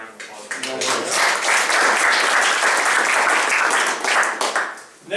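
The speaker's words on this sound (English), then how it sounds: "Big round of applause." Audience at a running club meeting gives a big round of applause, loud dense clapping swelling after a quiet start, holding steady, then fading near the end.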